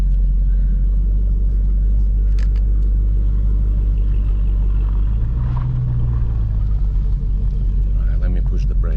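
Dodge Hellcat driving slowly to bed in new brake pads, a steady loud low engine and road rumble throughout, with a deeper swell of rumble around the middle as the car slows.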